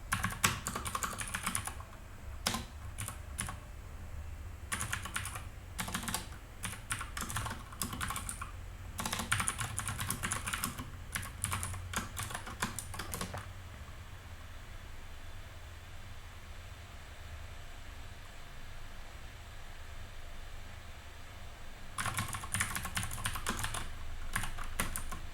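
Code being typed on a computer keyboard, with bursts of rapid clicking keystrokes broken by pauses, a long quiet stretch in the middle, then another run of typing near the end.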